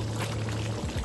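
Water pours steadily into a cooking pot of half-cooked chicken for biryani, a continuous close splashing rush lasting about a second, with no voices.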